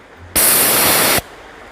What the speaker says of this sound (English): Okay, that's one burst of the bear spray.